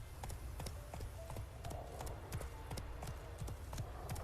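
Horse hooves clip-clop at a steady gallop across open ground in The Witcher 3, a rapid rhythmic drumming of repeated sharp hoof strikes that stays close and fairly loud over a low rumbling bed of game ambience.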